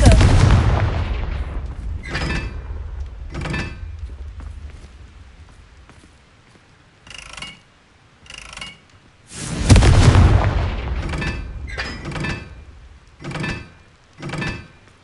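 Confringo fire spells burst in Hogwarts Legacy as heavy booming explosions, two big blasts with long rumbling tails, separated by shorter whooshing spell casts and thuds, loud and up front with no speech.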